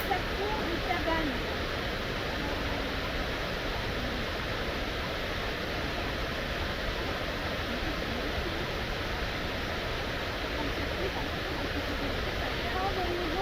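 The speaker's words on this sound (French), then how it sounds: "quittez le sentier pour aller voir la belle cascade d'Arrive" The Cascade d'Arrive waterfall, reached by a hiking trail, gives a constant, dense rushing roar that fills the whole stretch evenly without pause.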